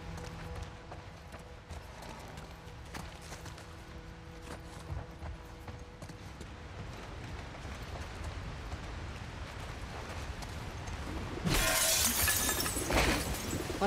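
Glass shattering in The Last of Us Part II, a sudden bright crash near the end after a long stretch of low ambient rumble and scattered footsteps.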